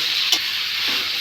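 Potol, potato and taro stir-fried in spiced oil give a steady, close frying sizzle throughout, with a couple of brief stirring scrapes.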